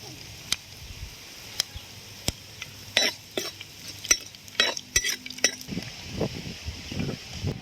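Curry leaves and dried red chillies frying in hot oil in a pan as a fish curry starts, a soft sizzle broken by sharp spoon clinks and scraping stirs, close and fairly quiet.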